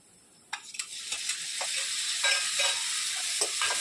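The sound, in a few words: chopped tomato added to sizzling pan for dal fry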